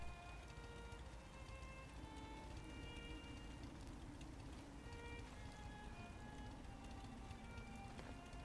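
Steady rain pours in Fallout 4, a constant soft hiss of drops on surfaces that stays even and fairly quiet from start to finish, with no voices.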